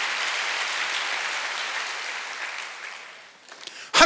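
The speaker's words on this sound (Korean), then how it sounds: "박수 한번 주세요." Congregation applause during a Sunday church service: a steady, even wash of clapping from many people that gradually fades, followed by a brief loud sound at the very end.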